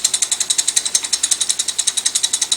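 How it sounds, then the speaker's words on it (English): Small loose bolts on an aligned coffee grinder burr carrier rattle in a fast, steady series of metallic clicks, about ten per second, close and clear with no talk. "That's the sound of these small bolts rattling."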